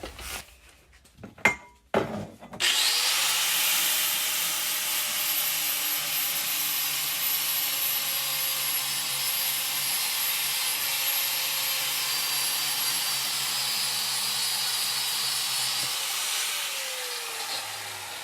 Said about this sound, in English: Go ahead and grind these things real quick.